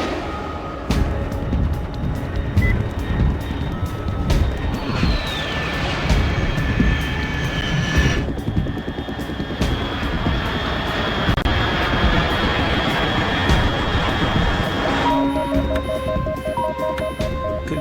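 In the Metal Gear Solid 3 video game, an aircraft engine drones loudly and continuously overhead with a steady roar and shifting whine, without speech.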